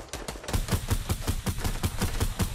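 Rapid bursts of Fortnite gunfire, evenly spaced shots repeating in a steady rhythm, loud and close with no talking.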